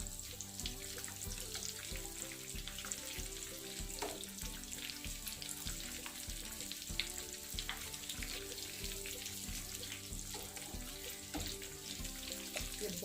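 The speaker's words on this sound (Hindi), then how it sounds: "अब दूसरी साइड से फ्राई कर लेते हैं।" Pea and potato tikki fry in oil in a pan, giving a steady, close, continuous sizzle with faint crackles and no talk.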